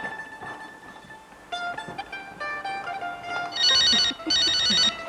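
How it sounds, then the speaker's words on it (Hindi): An old household telephone rings in a Pakistani drama scene: faint tones at first, then two loud, near bursts of the bell, each lasting about a second, with no talk. "3 बजे वाली पार्टी का फोन आ गया है।"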